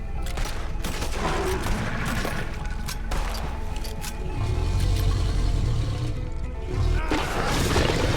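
Rapid pistol fire in the video game Red Dead Redemption, a dense run of sharp shots and crashes layered over heavy low rumbling game audio, loud and close.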